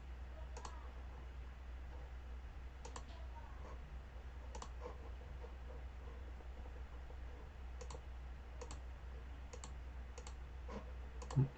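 Sparse, faint computer mouse clicks ring out one at a time at irregular intervals over a low steady hum, with one slightly louder click at the very end.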